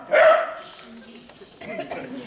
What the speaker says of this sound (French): Petit incident canin, rien de grave.